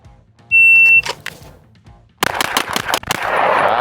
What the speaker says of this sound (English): let's do shooter ready, stand by, and then a beep